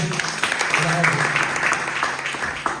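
A congregation at a prayer retreat claps and cheers in a dense, continuous burst of applause, with voices mixed through it.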